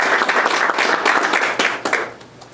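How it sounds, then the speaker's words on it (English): A board of directors meeting audience claps to welcome a new clerk to the board. The applause is moderately loud and fairly dense with distinct individual claps, then thins and fades toward the end. "let's give her a round of applause"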